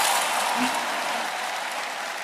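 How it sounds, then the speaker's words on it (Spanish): A church congregation claps together in a steady, dense wash of applause, moderately loud and continuous, with a faint voice showing briefly underneath. "¿Quién está aplaudiendo ahí?"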